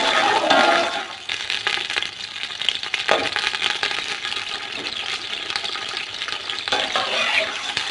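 Chopped onions dropped into hot oil in a kadai burst into a loud sizzle that settles into a steady, crackling fry, with occasional stirring clinks close by.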